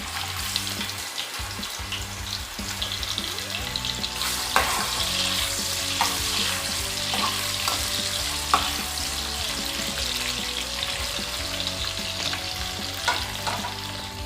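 Ginger fries in hot oil in a pan as a steady, close crackling sizzle lasting throughout, with occasional stirring scrapes and clinks and no talking.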